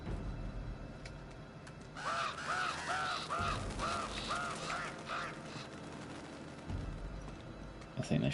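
A flock of birds flaps up and caws in the video game Uncharted 2, a burst of repeated harsh crow-like calls in quick succession over a steady background of game ambience and low rumble.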